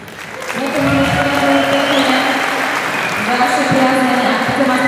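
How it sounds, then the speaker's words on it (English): A crowd at a bodybuilding pro show applauds and cheers the competing athletes, loud and sustained, with voices and shouts mixed into the clapping throughout. "Please give a round of applause to all the athletes competing tonight."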